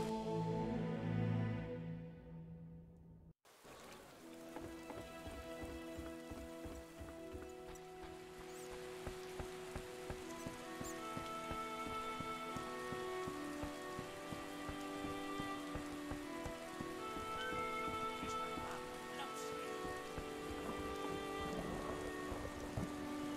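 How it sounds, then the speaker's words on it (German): Steady rain in the game The Witcher 1 falls continuously, dense pattering with occasional distant thunder rumbles, after a brief silent gap near the start. "Weil hier regnet es ja ständig."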